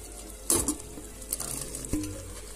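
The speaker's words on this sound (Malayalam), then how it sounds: "എന്നിട്ട് അത് നന്നായിട്ട് ഇതങ്ങോട്ട് ശരിക്കും അങ്ങോട്ട് ഇളക്കുക." Cooked pasta being stirred into a creamy white sauce in a pan, giving a few soft scraping clinks of the utensil against the pan and a low background hiss, close and fairly quiet.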